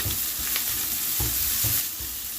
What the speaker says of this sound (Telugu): ఈ పచ్చి బఠానీ పేస్ట్ వేసాక కాస్త వేగనివ్వాలి.